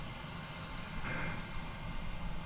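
An American Airlines jet takes off from runway 36 right at DFW airport, a steady distant broadband engine roar that swells slightly partway through.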